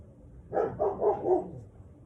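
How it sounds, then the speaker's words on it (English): A dog indoors lets out four quick, mid-pitched barks in a tight burst, fairly close and moderately loud, with no talking over it. "He doesn't usually bark this much."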